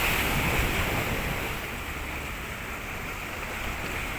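Surf surges steadily against rocky shore at Kasimedu beach in Chennai, a continuous loud wash of breaking waves with wind rumble and no talk.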